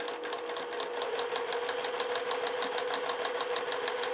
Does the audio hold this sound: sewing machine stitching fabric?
yes